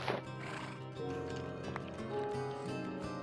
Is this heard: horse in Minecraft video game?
yes